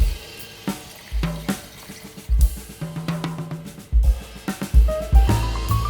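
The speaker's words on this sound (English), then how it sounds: "Pour in beef stock we kept earlier." Beef stock poured into a pressure cooker for Chinese-style beef stew, close splashing and gurgling liquid in uneven bursts with irregular pours and drips, moderately loud and free of talk.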